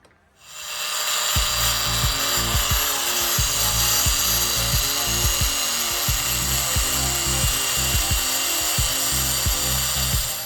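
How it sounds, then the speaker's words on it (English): A power grinder bites into a metal carburetor bracket on a 1979 El Camino in a garage, spinning up quickly, then holding a loud, harsh, continuous whine with rhythmic pulses as it cuts, close by and with no talk. "I'm gonna have to go through, grind that down pretty damn close to there."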